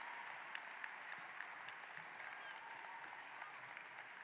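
Steady applause from a graduation audience as seniors clap for their teachers at a Pattonville High School ceremony, a continuous even patter of many hands from a large crowd heard at a distance.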